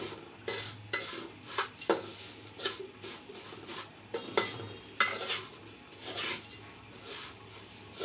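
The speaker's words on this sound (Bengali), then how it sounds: "এই তো আমার সেমাইটা ভাজা হয়ে এসেছে অনেকটা ব্রাউন কালার হয়ে গেছে" Laccha semai vermicelli being stirred as it fries in its own ghee in a pan, browning, with a steady run of scraping and rubbing strokes of a spoon against the pan, close and fairly quiet.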